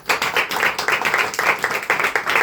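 Loud, rhythmic clapping from a church congregation, with sharp claps in a steady rhythm that fills the whole stretch without pause.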